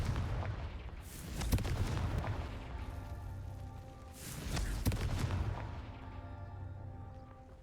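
Two heavy blasts from the Confringo fire spell in Hogwarts Legacy, each a sharp, loud boom with a rumbling tail, spaced a few seconds apart among crumbling ruins.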